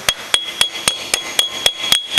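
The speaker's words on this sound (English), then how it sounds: "use a little soft-faced hammer just to tap it on there" A soft-faced hammer taps a wheel bearing dust cap into place, about nine evenly spaced, fairly loud dull strikes in steady rhythm, close by with no talk.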